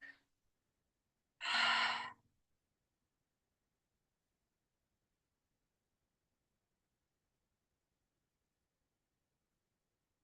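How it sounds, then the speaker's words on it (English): A single deep, breathy exhale rises and fades during a quiet yoga flow class, soft and close, followed by long stretches of near silence. "Beautiful breathing."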